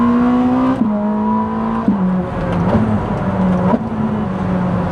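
A Ferrari 849 Testarossa engine drones loud and close, its pitch dropping in quick steps as several fast gear shifts snap through in succession, with no talking.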